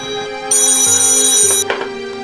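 An electronic telephone ringtone sounds loud and close, a bright tonal melody stepping through a few notes before cutting off, with no talk over it.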